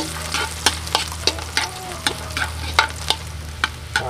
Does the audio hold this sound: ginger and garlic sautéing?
yes